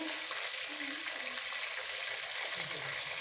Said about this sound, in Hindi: इसे हमने अच्छे से फ्राई कर लेना है